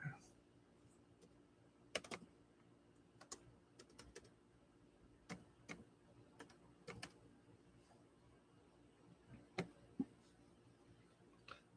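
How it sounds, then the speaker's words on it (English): Typing on a computer keyboard in a quiet room: scattered, irregular key taps with a few sharper clacks, soft and near, spread across the whole stretch with pauses between bursts. "Let me see if I can type it in the chat."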